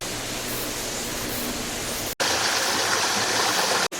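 A mountain stream in a valley gorge rushes in a loud, continuous broadband roar of flowing water, close by, broken only by two brief cuts.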